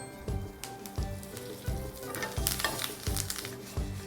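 Curry leaves crackle in hot oil with urad dal, mustard seeds, nigella and cumin during tempering, a loud close sizzle with rhythmic spoon strokes against the pan about every second.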